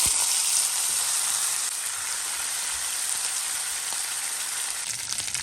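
Beef sizzling and frying in hot oil with curry leaves, a loud, steady crackling hiss that fills the whole stretch without pause, close by and with no voices over it.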